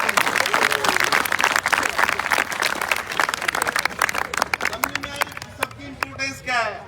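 Audience applause and scattered clapping with crowd noise runs throughout, fading into lighter claps and a few voices toward the end.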